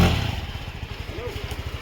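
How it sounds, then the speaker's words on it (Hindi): A scooter engine revs with a rough, pulsing chug, sputtering unevenly while stuck on stones, loud and close. "ये देखिए यहाँ स्कूटर फंस रहा है,"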